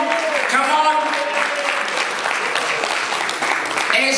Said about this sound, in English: a big round of applause for our Samoan Matua